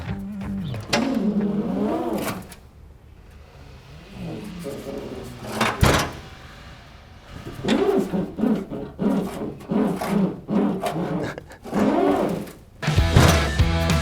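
Urethane parts on a truck tailgate rub as the gate opens and closes, giving groaning, squeaky harmonic bursts up close, with sharp knocks near the middle and end as it latches.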